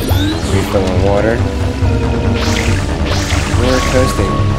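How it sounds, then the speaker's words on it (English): Water sloshes and gushes while refilling in Super Mario Sunshine, a steady liquid rush with bubbly swells in the video game mix, heard under continuous game music and sound effects. "Refilling water."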